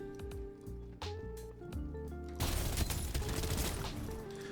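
Gunfire from a fast-firing gun in the video game Farlight 84, a burst of dense rapid shots erupting after a stretch of tonal game sounds and continuing loudly to the end.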